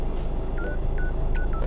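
A Honda Civic Type R infotainment system sounds a short series of soft electronic beeps while an iPhone connects, quiet tones heard over low cabin hum.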